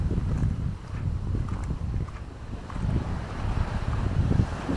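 Wind rushes across a boat at sea off El Nido, Palawan, Philippines, with constant low buffeting and rumbling microphone noise and a faint wash of water beneath, steady throughout.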